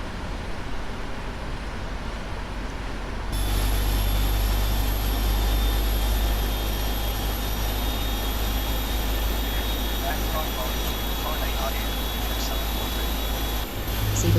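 Boeing 777-300 engine 2 spooling up during start, a steady loud broadband jet roar with a rising whine that holds evenly throughout, cockpit radio chatter faintly present underneath.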